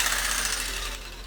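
A power tool cuts steadily through a foam board transom for a trimaran, giving a loud, close, continuous buzzing whine that eases off slightly toward the end.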